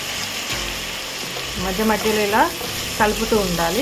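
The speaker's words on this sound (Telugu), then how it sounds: "మధ్య మధ్యలో ఇలా కలుపుతూ ఫ్రై చేసుకుంటూ ఉండాలి." Spiny gourd is stir-fried and stirred in a pan, giving a close, steady sizzle with intermittent scraping. A voice sounds briefly over the frying.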